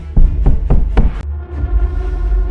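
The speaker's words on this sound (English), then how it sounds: "I was jolted awake by a frantic pounding at the door." Frantic pounding on a door, four loud heavy knocks in quick succession, then a low rumbling hum that continues afterward.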